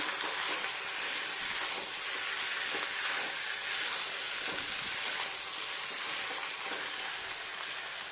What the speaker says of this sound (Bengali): বেশ একটু ভাজা ভাজা হচ্ছে একদম